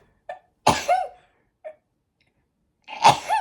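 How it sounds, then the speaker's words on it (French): A person sneezes, with small sharp breaths before a forceful sneeze and a second sneeze near the end, close and clear in a quiet room. "Je vais éternuer."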